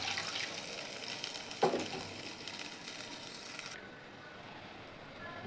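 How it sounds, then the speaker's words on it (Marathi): Cooked dal water poured into frying spice masala in a pan, giving a brief splash and a burst of sizzling that settles into a quieter bubbling hiss, with no talk. "आता जे आपण डाळ शिजवलेलं पाणी काढलं होतं ते पण टाकून घेते."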